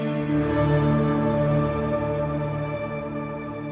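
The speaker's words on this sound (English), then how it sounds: "like delay repeats on your reverb" Shimmer reverb with a very long pre-delay so the reverb echoes like delay repeats: a dense, steady wash of sustained tones that hangs evenly and slowly fades, with no voices.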